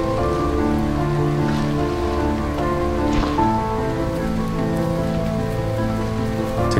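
Steady rain pours down continuously, a dense hiss of drops pattering on surfaces with no voices.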